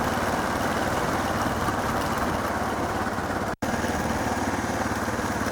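A dual sport motorcycle engine drones steadily at low revs in high gear going downhill on a Colorado mountain road, close and loud throughout, with a single brief cut-out near the end.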